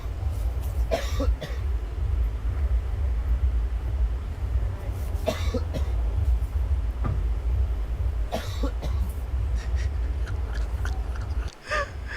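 Several short, harsh coughs in bursts over a steady low hum at the Coachella festival, with quieter stretches between the fits.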